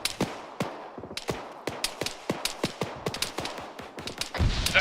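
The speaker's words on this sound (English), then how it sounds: "That's friendly fire." Friendly gunfire in ArmA 3, a run of sharp rifle shots cracking in quick irregular bursts, some near and some farther off, with a heavier rumble building at the end.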